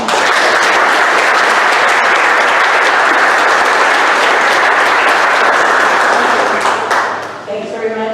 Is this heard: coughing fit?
no